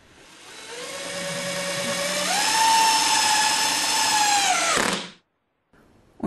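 Cordless power screwdriver whirs steadily as it drives a self-drilling plasterboard wall anchor, pitch rising midway and holding, then stopping abruptly after about five seconds, followed by a faint brief tail.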